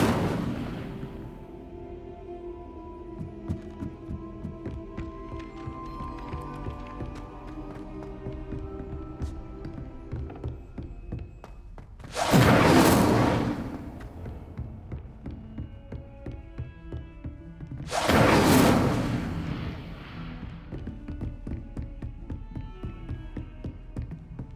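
Two loud, broad whooshing fire blasts from the Incendio spell in the video game Hogwarts Legacy, several seconds apart, each roaring briefly over a steady bed of game music and ambience.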